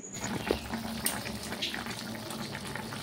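Water is poured into a pot of cooking masoor dal with lentil fritters, a steady close splashing pour with no talking.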